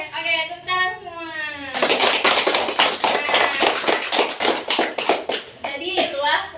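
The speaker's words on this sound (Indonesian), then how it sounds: "Oke, tepuk tangan semua." A class of children claps their hands together, a dense burst of rapid, overlapping claps lasting several seconds, heard close and loud after a voice briefly talks.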